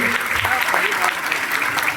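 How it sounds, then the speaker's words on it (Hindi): Audience applause for newly arrived guests at a business seminar meeting in Lucknow, a steady dense clapping lasting the whole moment, loud and close, with some voices mixed in. "जोरदार तालियां न्यू गेस्ट के लिए"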